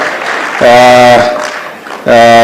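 Audience at a Kenya Railways event clapping for the board members, two loud bursts of applause broken by a brief lull, with a voice speaking over the start.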